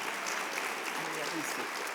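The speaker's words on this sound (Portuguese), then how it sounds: "Dá um aplauso para o Senhor." A church congregation applauds, a brief, steady patter of many hands clapping, heard at moderate distance.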